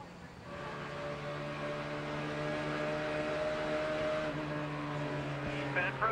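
Steady high-revving engine drone with strong harmonic whine, heard from inside a 2004 Nextel Cup stock car, continuous and loud for the whole stretch.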